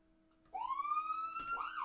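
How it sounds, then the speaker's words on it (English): An ambulance siren, as used for children's transport vocabulary: one loud, clear wail that begins abruptly and rises steadily in pitch, sounding alone with no talk over it. "Ambulance."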